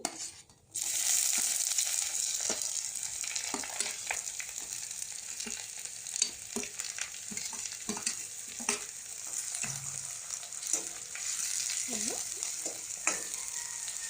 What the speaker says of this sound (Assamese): পিঁয়াজখিনি অকণমান ৰঙা হোৱাকৈ ভাজি ল'ম প্ৰথমতে